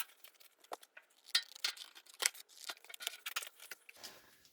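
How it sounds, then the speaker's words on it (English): Scissors snipping through a paper template for a rusty Ford Escort MK1 wing repair, a close, quiet series of crisp irregular cuts and rustles with no talking. "with the newfound scissors"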